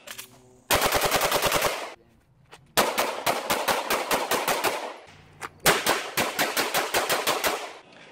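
An HK USP Compact pistol fires three rapid strings of shots, each about a dozen sharp, loud reports in quick rhythm, separated by short pauses.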